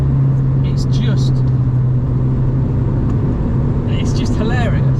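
A Volkswagen Lupo GTI's engine screams at high revs with a steady, droning roar that fills the cabin throughout, while a person talks over it.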